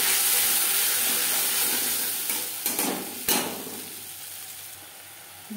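Ginger paste, green chili paste and tomato paste stirred in a pan, a steady broadband sizzle with a few sharp scrapes of the spoon midway, fading slightly toward the end; no voices.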